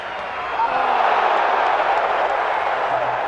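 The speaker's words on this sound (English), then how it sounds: "When the crowd all at once goes, ooh, all at the same time" A stadium crowd at a college football game, UNLV at Utah, swells into a broad collective roar that rises abruptly and holds steady, loud and distant-sounding, with a commentator's voice faintly underneath.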